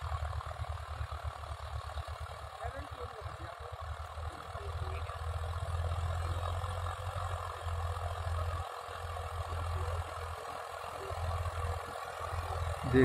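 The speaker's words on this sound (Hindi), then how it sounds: "देखिए क्या शानदार गजब परफॉर्मेंस चल रही है ट्रैक्टर 10-35-40 एचपी हाई लिफ्ट में।" Massey Ferguson 1035 DI tractor, about 40 hp, with a high lift, its diesel engine running in a steady low idle-like drone at moderate level, heard alone.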